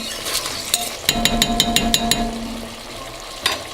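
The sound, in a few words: stirring simmering lamb in a pot for plov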